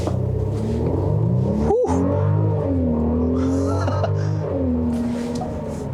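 A 2020 Mercedes-Benz GLC Coupe in Sport Plus mode accelerates hard from a standstill, its engine droning and rising in pitch with a brief gear-shift dip, loud and close from inside the cabin.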